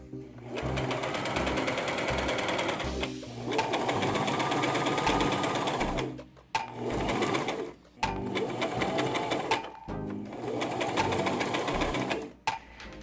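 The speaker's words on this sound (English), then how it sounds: "So yeah, sew up the sides with 1 inch on each side." Sewing machine stitching up the side seams of a tiered fabric skirt, running in long steady bursts with brief pauses between them, close and fairly loud with no talk over it.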